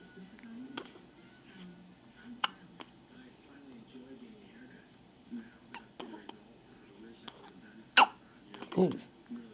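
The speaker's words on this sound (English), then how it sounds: "We need to get rid of these hiccups" A child gives several small sudden hiccups, sharp brief gasps spread out through the stretch, while an adult voice speaks softly nearby between them.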